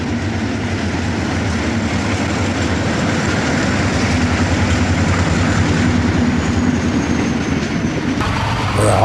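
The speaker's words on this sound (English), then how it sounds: "The westbound E8 power train heading west of Middletown." Loud, close rumble of an Erie Lackawanna westbound passenger train with E8 diesel power passing near Middletown, wheels clattering steadily over rail joints with a sustained roar throughout.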